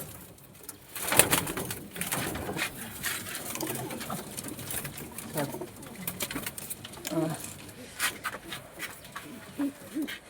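Domestic pigeons being flown from a home loft coo softly among scattered sharp bursts and rustling, with voices in the background throughout.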